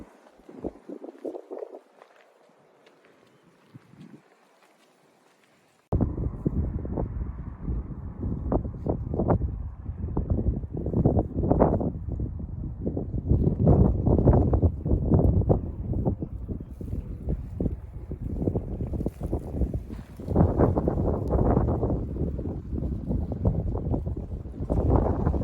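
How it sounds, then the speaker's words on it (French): Strong wind blows near the Montfuron windmill in the Luberon, starting after a quieter stretch and then rushing and buffeting the microphone loudly and continuously with gusty surges. "Ah, il y a beaucoup de vent."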